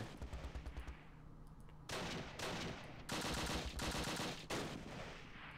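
Gunfire in the WWII strategy video game Close Combat Last Stand Arnhem: several bursts of rapid machine-gun and rifle fire, sharp and clustered, separated by short gaps.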